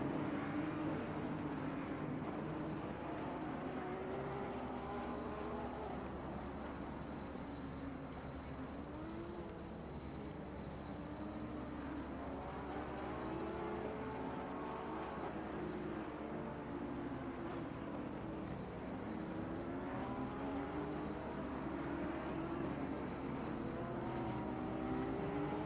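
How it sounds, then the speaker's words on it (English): Several race car engines in a racing video game idle and rev low on the grid at Silverstone in a steady, continuous drone, with rising and falling pitch sweeps as throttles blip. "we can hear the engines of these cars"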